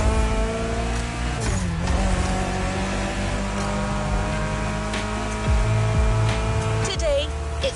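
A BMW M5 Drift Edition in The Crew Motorfest holds a steady, loud engine drone with shifting revs and a brief dip, running continuously under a voice talking.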